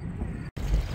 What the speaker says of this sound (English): Apologize about the wind.